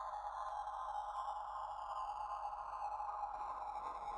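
A synth tone processed with bit reduction swept by an LFO produces a steady, faint, buzzy digital hum with slowly shifting gritty harmonics and no voices.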